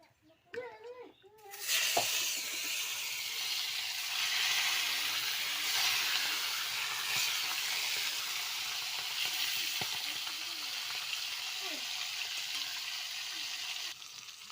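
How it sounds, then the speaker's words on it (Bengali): Rohu fish pieces sizzle steadily in hot oil in a home kitchen, a continuous loud frying hiss lasting throughout after a brief quieter start with a voice at the very beginning. "মাছ ভাজা হয়ে গেছে, আমি তো মাছ ভাজাগুলো তুলে নেব।"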